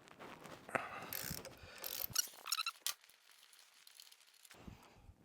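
An 8 mm Allen key turns a bracket bolt on a Honda TransAlp motorcycle, giving quiet close-up metallic clicks and scrapes in short bursts, then falling to near silence before a final brief rattle.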